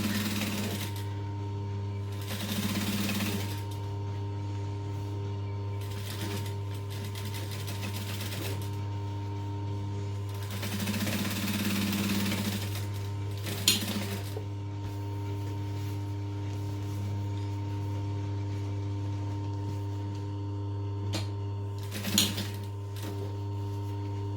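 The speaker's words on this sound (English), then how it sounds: "back to a 3 3/4 stitch length, and then stitch 1/8 of an inch from that seam" A home sewing machine runs a topstitch one eighth of an inch from a seam on a fabric backpack, a steady low motor hum with bursts of rapid needle chatter and a couple of sharp clicks.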